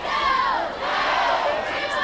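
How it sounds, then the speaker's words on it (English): A large crowd at a 1996 high school football game, Chardon versus Solon in Ohio, roaring and cheering in a sustained wash of many voices from both sides of the stadium, loud and continuous with a brief dip partway through. "good crowd on hand from both sides"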